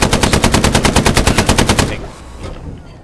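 Machine gun fire in the World War II shooter Hell Let Loose: a loud, rapid, evenly spaced burst of about fifteen shots over two seconds, then a fading echo and faint distant rumble.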